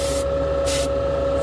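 An airbrush fitted with a number 3 needle and a number 5 tube sprays paint in a steady close hiss, with two brief surges of stronger airflow.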